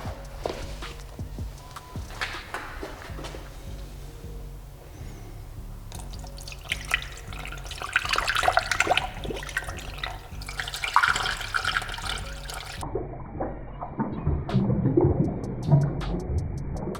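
Coolant poured from a bucket into a Nissan 350Z after a thermostat replacement: steady splashing and trickling liquid with scattered drips and clunks, building louder midway and continuing unevenly, no talking.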